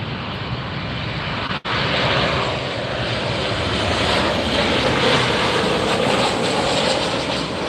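Steady, loud roar of a fixed-wing airliner landing at LAX, a broad continuous engine and airflow rush that holds throughout with one brief dropout near the start, no talk.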